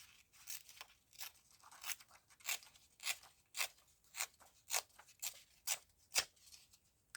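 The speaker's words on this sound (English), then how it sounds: "Very crunchy paper." Crunchy old book-page paper snipped with scissors for craft flowers, a steady run of about a dozen crisp, close cuts, each with a sharp crackling tear, and no talking.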